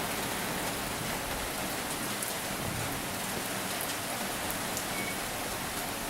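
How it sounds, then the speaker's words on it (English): Rain falls outdoors, making a steady, even hiss of drops landing on surfaces that stays moderately loud and unbroken with no voices. "Yay, it's raining."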